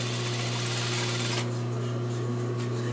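A sewing machine runs at a steady pace with a dense, even mechanical whir, close up, as it stitches plaid fabric seams together. No voices are heard.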